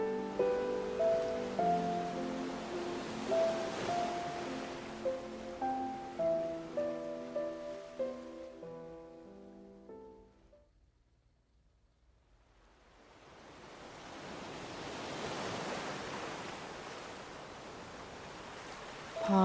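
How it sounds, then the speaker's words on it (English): Ocean waves washing ashore, a soft hiss of surf that swells after a quiet gap near the middle, faint and distant under gentle ambient music in the first half, with no voice. "Pause to listen to the waves now"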